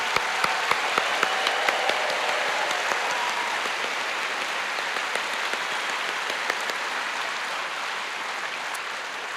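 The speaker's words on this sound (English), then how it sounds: "Would you give a big round of applause to our chancel choir" An audience in a concert hall applauds the chancel choir, orchestra and music ensembles, a dense, sustained wash of clapping that carries on steadily throughout.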